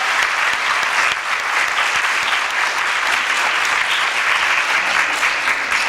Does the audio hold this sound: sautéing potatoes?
no